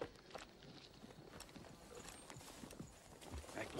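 Horse hooves clip-clop steadily in a western film scene. The clopping is faint and moderately distant over a busy background, with no talking.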